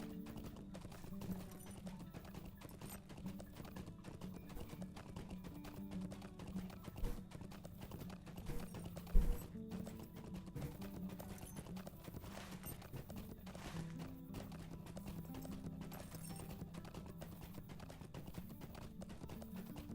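Horse hooves clip-clop steadily in the Lord of the Rings Online video game, a continuous rhythmic trot under game background music with no talking.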